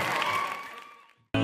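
Applause from an audience at a Dharma Wanita Satpol PP Jakarta Timur meeting, a steady, dense clatter of clapping that fades over about a second, then briefly cuts back in loud at the end.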